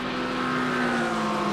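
A BMW and a Lamborghini race close together in a racing video game, giving a steady, loud engine drone with a sustained tonal whine and no breaks.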